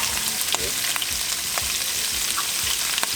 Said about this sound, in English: the meat is already turning brown a little bit because the oil is hot.